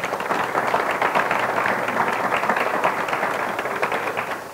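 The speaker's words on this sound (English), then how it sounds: "Would you all please give him a round of applause?" A forum audience gives a sustained round of applause for guest author Casey Gerald, dense steady clapping filling the whole stretch at an even loud level.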